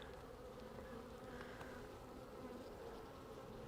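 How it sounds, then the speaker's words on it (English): Honey bees buzz steadily inside an open nuc hive during an inspection, a close, continuous hum with no talking. "So there's a lot of bees in here."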